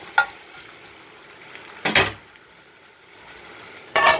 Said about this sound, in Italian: Questo è un soffritto che non fa affatto male perché non va ad alta temperatura.